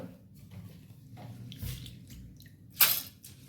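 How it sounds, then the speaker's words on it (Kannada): Thin coconut milk is poured onto soaked rice and urad dal for dosa batter, giving soft, quiet liquid trickles and drips with one brief, sharper splash near the end. "ನೀರು ಹಾಲನ್ನು ಇದಕ್ಕೆ ಹಾಕೊಳ್ಳೋಣ"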